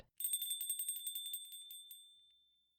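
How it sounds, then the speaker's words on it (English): A door chime rings as someone leaves, a quick run of bright metallic tinkles that slows and fades away over about two seconds, heard alone. "the sound of the door chimes telling me she left"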